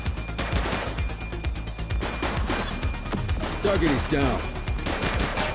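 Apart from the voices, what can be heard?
gunfire from the video game The Precinct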